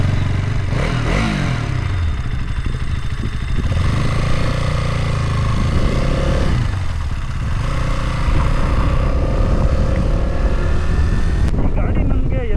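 A KTM Duke 200 naked motorcycle engine runs steadily and loudly throughout, with rising and falling revs.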